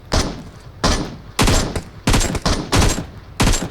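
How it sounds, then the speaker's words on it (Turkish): Seven rapid bursts of PUBG Mobile gunfire aimed at a car, loud and close, each a short crackling volley separated by brief pauses. "Oğlum 50 kere sıktım."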